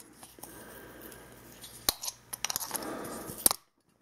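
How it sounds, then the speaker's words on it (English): Snips crack open a hard plastic power supply case, with a few soft squeezes followed by a cluster of sharp close snaps and cracks, then silence. "if it's a harder plastic, is you can just take your snips"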